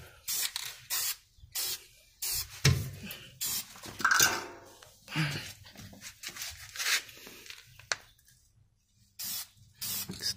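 Short bursts of aerosol spray paint hiss on and off in an irregular rhythm while a brake caliper on a 2019 Chrysler 300S gets coated, each burst loud and close with quiet gaps between.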